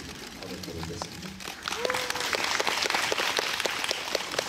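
Audience applause fills a cinema during a live stage talk at CGV Apgujeong as guests leave, steady dense clapping that swells louder midway, with a few voices mixed in.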